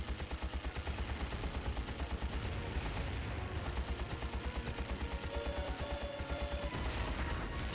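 Sustained rapid gunfire from a naval combat video game, dense and continuous for several seconds with steady rhythmic bursts, loud and close, with no talk over it.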